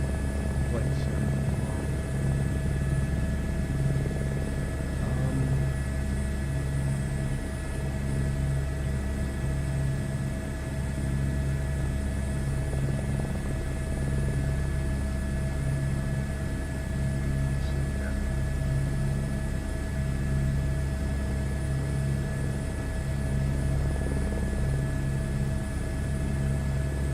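An Airbus H125 helicopter in a flight sim game gives a steady, continuous rotor and turbine drone with a constant hum, unchanging and moderately loud throughout.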